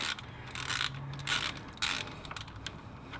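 A half-inch drive ratchet turns an 8mm Allen bolt on a Toyota LandCruiser 1HZ/1HD diesel engine during a timing belt change, giving several short bursts of quick, close metallic clicking.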